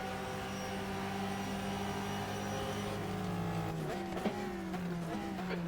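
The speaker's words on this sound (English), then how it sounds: "Listen to those downshifts from the Corvette." A Corvette race car in the GTR2 racing game holds a steady engine drone, then drops through quick downshifts with sharp rev blips near the end, heard from inside the car at moderate volume.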